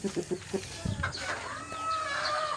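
Dongtaw red chickens cluck in a quick series of short, close calls, followed by longer drawn-out fowl vocalizations and some background bird noise on a farm, with no voices.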